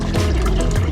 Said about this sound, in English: So that's the pump I'm using,